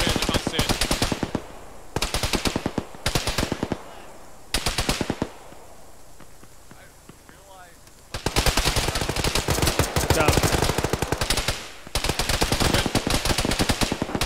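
Loud automatic gunfire in a ShackTac military video game comes in long rapid bursts, broken by a quiet pause, then resumes as dense sustained fire.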